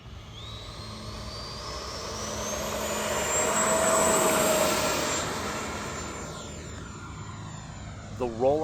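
FMS Super Scorpion 90mm EDF RC jet with 8S power rolling out and lifting off, a steady whooshing ducted-fan whine that rises in pitch and swells louder mid-takeoff, then fades slightly as it climbs away.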